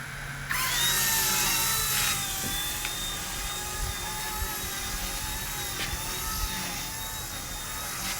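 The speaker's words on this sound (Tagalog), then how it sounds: "So I can feel the helicopter's a little bit twitchy" An Eachine E120 RC helicopter spools up and flies, its rotor and motor producing a high-pitched whine that rises sharply at the start and then holds steady with slight wavering pitch, close and prominent.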